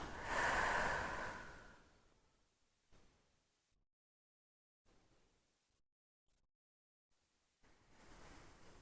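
Slow, deep breathing during a children's yoga relaxation, with one long, close breath followed by quieter, softer exhales and pauses of near silence between them.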